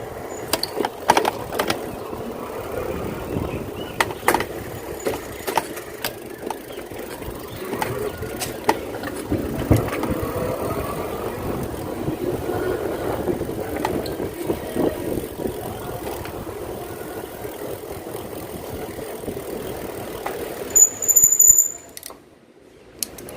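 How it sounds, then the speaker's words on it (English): An EM Karbon electric folding fat-tire bicycle rides along outdoors, its tires and frame giving a steady rolling rumble with scattered clicks and rattles that fade near the end. "E-motor carbon, a fat tire folding electric fat bicycle"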